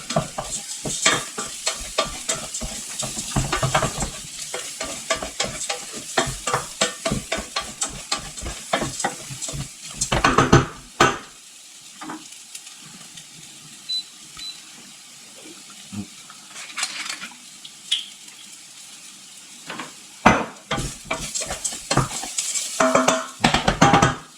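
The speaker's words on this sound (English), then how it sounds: "This process is called toasting the rice." Risotto rice toasts in a pan over medium-high heat while a spoon stirs it constantly, making a rapid run of close, rhythmic scraping and rustling over a light sizzle, with a few brief pauses and no voices.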